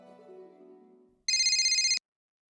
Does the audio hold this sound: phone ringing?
yes